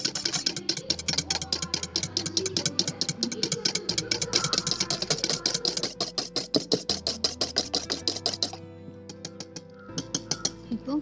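Egg whites for a sponge cake are beaten by hand in a bowl: fast, regular clattering strokes repeat close up, then slow into a few scattered beats before stopping.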